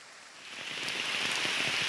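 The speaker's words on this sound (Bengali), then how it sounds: "প্রচণ্ড বৃষ্টি হচ্ছে" Heavy rain falls in the hills of Mini Darjeeling, Sikaripara, Jharkhand, a dense, even hiss of drops on surfaces that swells in loudness and then holds steady.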